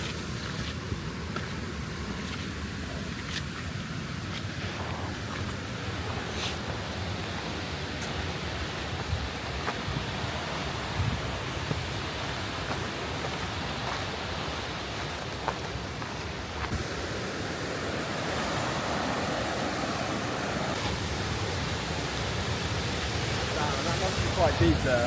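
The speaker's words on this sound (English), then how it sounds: "Now we are on the path to the low force waterfall." Steady rushing water of Low Force waterfall fills the air on the path toward it, a broad continuous roar with wind buffeting the microphone.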